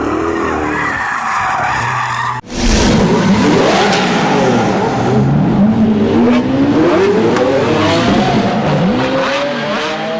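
A supercharged 6.2-liter, 640-horsepower, rear-wheel-drive 2019 Cadillac CTS-V on Michelin Pilot Super Sport tires slides through canyon roads, its engine revving hard up and down as the tires squeal, loud and close, with a sharp cut early on and no talking.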